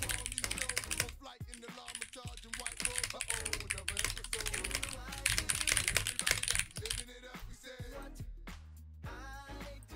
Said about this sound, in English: It's a nice, clean keyboard.